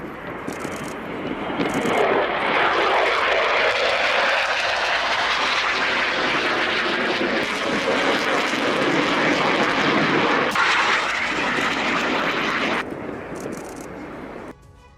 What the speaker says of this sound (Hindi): आसमान में लड़ाकू विमानों की ताकत दिखाई गई।